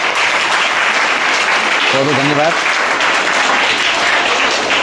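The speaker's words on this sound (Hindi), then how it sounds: "इनके पूरी टीम के लिए तालियां हो जाए जोरदार।" Loud, dense applause from a gathered crowd of students and guests at a village school competition event, cheering the winning team, sustained throughout with a brief thank-you spoken over it midway.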